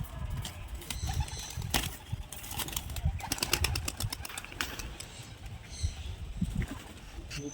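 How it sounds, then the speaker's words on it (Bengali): Pigeons released from a loft flap their wings in repeated bursts as they take off and fly, with faint cooing and background noise throughout. "দাদা কিছু পাখি ছেড়ে দেখাবে।"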